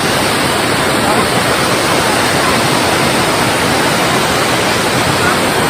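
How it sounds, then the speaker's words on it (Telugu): Kuntala waterfall's dense, constant roar of rushing water fills the scene, loud and unbroken from start to finish. "ఇది ఆ కుంటాల వాటర్ ఫాల్ వాటర్ అనేది ఎట్లా ఫ్లో అవుతున్నావు కూడా ఫ్రెండ్స్"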